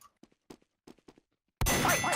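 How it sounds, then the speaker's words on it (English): A boxing ring bell, pressed from the booth at a boxing match, strikes loudly after a quiet stretch of faint knocks and rings on with a bright, ringing clang. "When the fine gentleman up in the booth press the bell and I exit the ring, you may begin"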